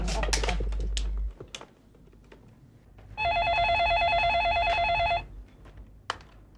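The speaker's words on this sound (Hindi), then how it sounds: "तुम देश पांडे के यहाँ अभी फोन लगाओ" A landline telephone in a family home being dialled, with scattered clicks and key presses followed by about two seconds of a steady electronic ringing tone, and brief clatter around it.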